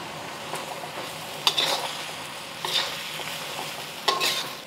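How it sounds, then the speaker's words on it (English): Eggs, cabbage and green onions stir-fried for moo shu pork, a steady sizzle broken by a few sharp scrapes and tosses of the spatula in the pan, close and alone with no talk. "I'm adding my eggs back in, and I'm gonna toss in the green onions."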